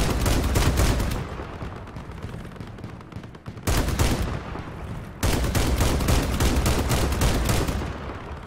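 A cannon fires during Crossout, a vehicle combat shooter game, in heavy rapid bursts that sound like sustained gunfire, loud and continuous with two brief breaks.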